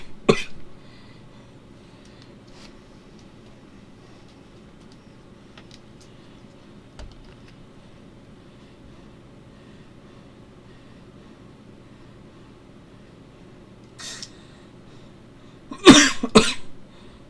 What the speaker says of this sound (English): I might cough, because it's one that likes to make me cough whenever I take it.